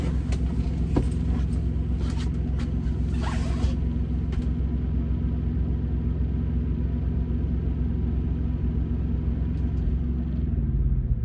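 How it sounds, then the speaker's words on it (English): A truck's auxiliary power unit drones in a steady, close, low rumble, with a few faint clicks and rustles early on, and the hum holds level to the end with no clear shutdown. "let me turn this APU off"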